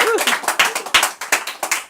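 Sharp, close clapping follows a sung performance, about a dozen distinct claps in quick, slightly uneven rhythm by a small group, with a brief voice at the start.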